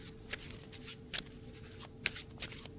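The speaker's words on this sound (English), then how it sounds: "This is the sound a real overhand shuffle makes." Soft, quiet riffling of playing cards in an overhand shuffle by hand, with light irregular flicks and taps over a faint background hiss.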